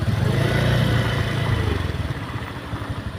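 A motorcycle engine idles close by with a rough, pulsing putter that stays steady throughout, with no talk over it.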